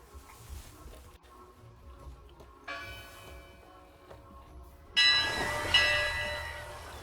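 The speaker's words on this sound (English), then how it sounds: "Those bells are kind of similar." Bells ringing in a video game, bright metallic tolls arriving in bursts that build in loudness, the last strikes loud and ringing with long resonant decay over a low background hum.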